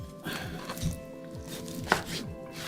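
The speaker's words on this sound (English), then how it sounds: "We cut the meat in cubes." A knife chops meat into cubes on a cutting board, making several close, fairly quiet thuds in an uneven rhythm with no talking.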